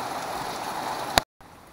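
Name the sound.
rain falling outside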